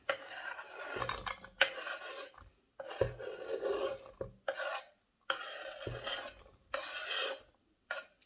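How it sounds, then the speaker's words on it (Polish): Garden chives are chopped with a knife in short rasping bursts, several quick strokes separated by brief pauses, close and fairly quiet. "Szczypiorek siekam sobie na obiad."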